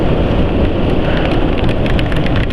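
Steady rain falls during a motorcycle ride, a dense continuous wash of drops and road noise that stays loud and even throughout, with no voices.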